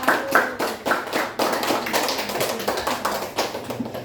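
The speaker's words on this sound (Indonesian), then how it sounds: "tepuk tangan buat yang udah juga" Classroom hand clapping in an Indonesian primary school lesson, a loud, near series of sharp claps in a fairly even rhythm, several per second, with no talk over it.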